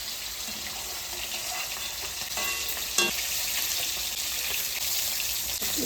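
Hilsa fish pieces shallow-frying lightly in hot oil, a steady broadband sizzle with faint stirring clicks and a brief scrape partway through, close and continuous with no talking.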